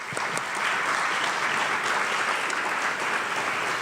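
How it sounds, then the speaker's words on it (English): Sustained applause from a sizable audience at a university talk, a dense, even wash of clapping that continues throughout without any voices. "Let's give her a round of applause."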